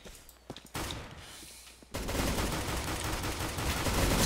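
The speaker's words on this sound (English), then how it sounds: "Dual Berettas are so bad! I can't get a kill with these guns to save my fucking life." Rapid pistol fire from the Dual Berettas in CS:GO, a sparse quiet stretch giving way to dense, loud, continuous bursts of gunfire with no talk.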